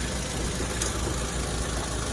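A 2.0-litre LPG engine in a 2011 Hyundai Sonata YF runs under the open hood, a steady close idle hum with constant broadband rumble and no talk.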